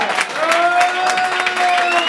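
An anniversary event audience claps and cheers loudly and continuously, with a sustained tone running underneath.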